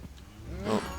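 Cows mooing in Minecraft with the FTB modpack: one short low moo rises near the end against a steady hum of game background noise.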